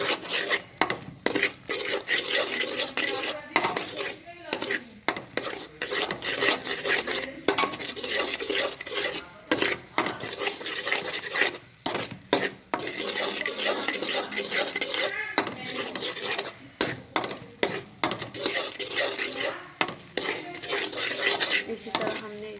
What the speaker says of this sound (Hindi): देखिए, अब हम इसे इसी तरह भूनना है।